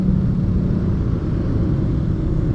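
Dense weekend traffic jam on a road in Parung, Bogor, with a steady, loud low rumble of idling cars and motorcycles close by and no clear single vehicle standing out.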